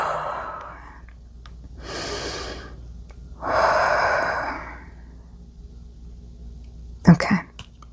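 Slow, deep breaths taken alone in a quiet room: a long inhale and a fuller exhale, then a louder breath, ending in a short sharp sniff or snort, close and fairly loud.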